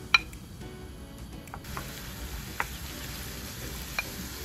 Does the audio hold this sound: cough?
no